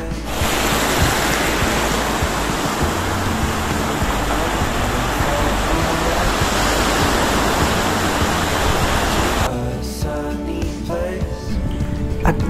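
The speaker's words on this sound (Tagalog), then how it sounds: "pag pinakikinggan mo ang bawat hampas ng alon" Ocean waves crash continuously at Aguawan Beach, a dense, loud wash of surf roaring without pause for most of the stretch, then thinning to a quieter, softer rush near the end.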